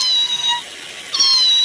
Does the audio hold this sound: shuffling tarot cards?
no